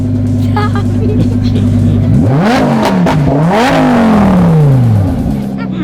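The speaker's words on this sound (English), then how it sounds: "And now start it. Press the gas." A twin-turbo Lamborghini engine, loud and close, settles from a steady idle into several sharp revs that rise and fall in pitch, with a voice briefly heard beneath.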